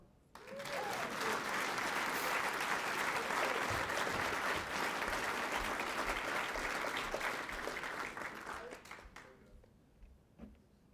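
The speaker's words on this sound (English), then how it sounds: "You can applaud." An audience at an Army class graduation breaks into loud, full applause for the distinguished honor graduate, swelling fast, holding steady for several seconds, then thinning out to a few scattered claps.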